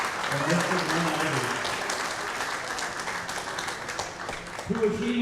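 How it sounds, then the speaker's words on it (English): Audience applause at a community event, dense steady clapping filling the room throughout, with a voice talking over it near the end. "One more round of applause."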